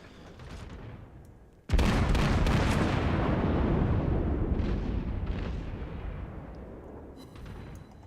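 Naval gun salvo fired in World of Warships: after a quiet lead-in, a sudden heavy boom at close range gives way to a long, rumbling roll of gunfire that slowly fades, with a few further distant reports.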